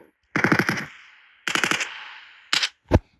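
Automatic gunfire in a video game rings out in three rapid bursts, the first two long and rattling with fading echoes, then a short burst and a final single loud shot, with no talking.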